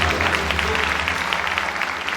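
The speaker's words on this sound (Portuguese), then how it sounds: "Então dá um aplauso ao Senhor Jesus." A church congregation applauds during a worship service, a loud, dense wash of clapping with crowd noise underneath and a low steady hum, continuing evenly throughout the short stretch.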